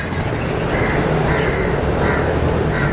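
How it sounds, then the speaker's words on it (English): Pigeons in the courtyard of a Chinese temple in George Town, Penang, give short repeated calls at a steady pace over loud, constant street and traffic noise. "There's a lot of pigeons in the courtyard area here."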